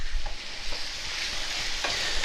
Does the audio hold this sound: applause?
no